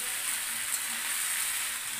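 Soybean chunks dropped into a pan of frying curry with potato give a steady, close sizzle and crackle that holds at an even level for the whole stretch, with no voices.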